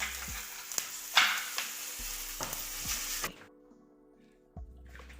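Steady crackling sizzle of green chillies and garlic frying in hot oil with occasional utensil taps, then the sizzle drops away, leaving quiet clinks.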